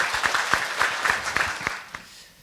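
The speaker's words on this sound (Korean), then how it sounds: "박수로 환영하겠습니다." A seminar audience claps to welcome a professor to the stage, a sparse, close run of distinct claps that thins out and fades within a couple of seconds.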